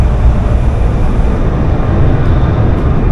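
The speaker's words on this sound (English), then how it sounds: "It looks like we are in a tunnel again." Indonesia's new Jakarta–Bandung high-speed train running through a tunnel, a loud, continuous low rumble and roar of the carriage with no speech.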